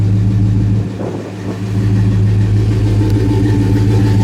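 A 1970 Chevrolet Monte Carlo V8 with Flowmaster exhaust rumbles loud and close, dipping briefly before rising again into a deep, throbbing rev, with no talking.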